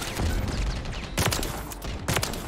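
Rapid sniper rifle shots in a video game, a few sharp broadband cracks spaced about a second apart over a dense, busy bed of game noise.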